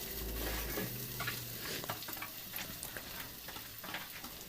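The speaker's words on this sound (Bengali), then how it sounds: "যখন মনে হবে যে রসুনগুলো ভাজা ভাজা হয়ে গেছে, তখন তার মধ্যে পেঁয়াজগুলো দিয়ে দিতে হবে।" Garlic and onions fry in a pan for Bengali-style chicken kosha, with a steady crackling sizzle and occasional ticks of stirring at moderate loudness, without speech.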